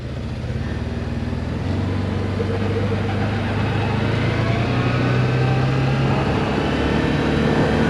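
A 2022 CFMOTO UFORCE 1000 utility vehicle with belt drive pulls away in high range, its engine a steady, loud low rumble with no shift breaks, heard close from on board with no talk.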